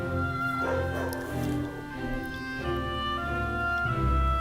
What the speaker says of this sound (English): The dog's not happy about something.